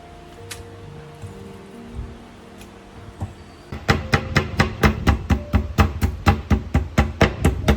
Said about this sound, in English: I'm also cutting up some pork fat to render and make crispy pork cracklings